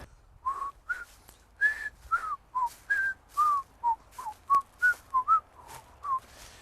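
A person whistles a simple tune alone, a series of short clear notes rising and falling in a steady rhythm against a quiet background.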